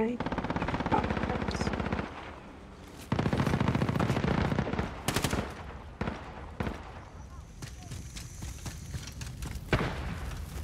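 Rapid automatic gunfire crackles in Call of Duty Modern Warfare, loud bursts starting and stopping with scattered single shots and thuds, while players talk over the shooting.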